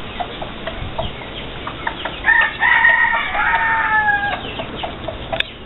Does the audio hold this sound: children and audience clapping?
no